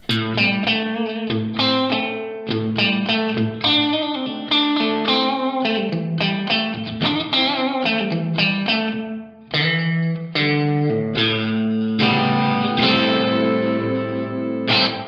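Electric guitar through a boost pedal turned all the way up, playing a run of chords and notes, the tone gritty and breaking up, loud and steady with no talking.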